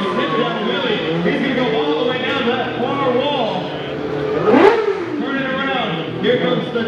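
Stunt motorcycle engine held at a steady high drone during a sit-down wheelie across an indoor stadium floor at a motorcycle show, with a rising-and-falling rev swell partway through, heard under an announcer's continuous commentary.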